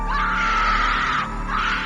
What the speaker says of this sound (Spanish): De fondo se escuchó un grito de llanto desgarrador.